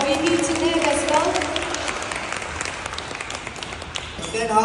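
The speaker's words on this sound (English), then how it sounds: "let's give a round of applause to our baby Tinette as well" Audience applause at an anti-aging product promotion talk, a dense steady wash of clapping running throughout with a voice speaking over the start.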